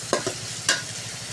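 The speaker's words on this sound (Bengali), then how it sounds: "এটাতে তেল দিয়ে দিলাম পেঁয়াজ কুচি। পেঁয়াজটা ভালো করে লাল লাল করে নিব।" Chopped onions frying in oil with a continuous low hiss, broken by three short scraping knocks of a spatula stirring the pan, fairly close and without any voices.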